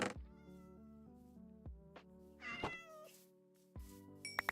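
A cat meows in the Minecraft video game, several clear drawn-out meows one after another, close and distinct against a quiet background with no talking.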